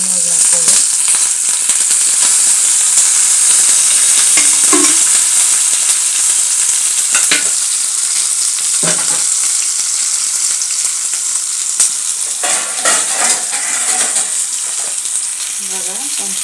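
North Karnataka-style green chilies cooked with mung beans fry in a pan as oil is slowly poured in, giving a steady, loud, continuous sizzle and crackle with a few sharper pops throughout.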